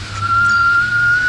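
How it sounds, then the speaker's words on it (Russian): A single sustained high-pitched whistle blown steadily for about a second, loud and close. "О, смотри, Бодя, свисток какой."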